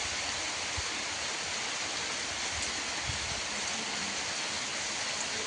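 Steady rain falls without a break, making an even, soft hiss with no voices.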